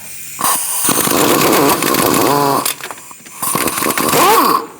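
A pneumatic impact gun with a socket rattles in loud bursts, spinning out a front wheel knuckle bolt on a 2002-2006 Toyota Camry, two main runs separated by a short pause.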